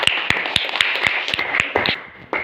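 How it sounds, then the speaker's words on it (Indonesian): A classroom of students claps for a classmate in a brief, uneven burst of sharp, separate hand claps, close and fairly loud, tapering off near the end. "tepuk tangan buat Devi"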